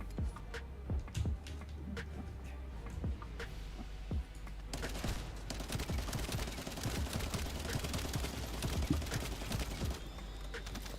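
A light machine gun in the shooter game The First Descendant fires in dense, rapid bursts with overlapping impacts and battle noise, loud and continuous for the whole stretch.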